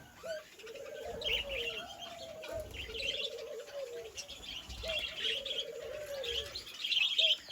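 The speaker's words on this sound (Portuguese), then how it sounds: "aqui a gente tem periquito australiano" Budgerigars in an aviary chirp and warble in repeated chattering phrases, fairly near, with a low cooing bird in the background throughout.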